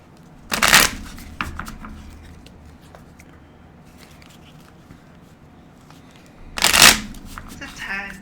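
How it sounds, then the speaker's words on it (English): A deck of playing cards is shuffled in two loud, brief riffle bursts close to the mic, one at the start and one near the end, with quieter handling and faint movement between them. "I'm just shuffling my deck"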